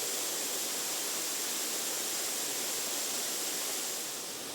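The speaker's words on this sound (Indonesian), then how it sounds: "Dan ini adalah puncak dari air terjun tingkatan kedua." The top of the second tier of the Lekan Ati waterfall in a forest setting, a steady, broad roar of falling water that stays constant and fairly close with no voices.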